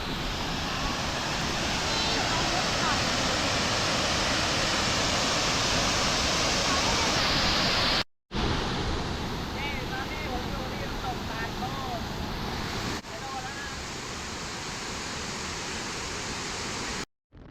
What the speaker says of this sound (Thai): แวะเข้าไปเบิ้งน้ำตกตาตน